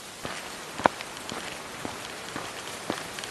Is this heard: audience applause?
no